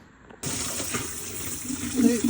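Running tap water pours steadily into a sink as blue crabs are washed, a continuous splashing flow that starts abruptly and stays fairly loud, with some low clatter underneath.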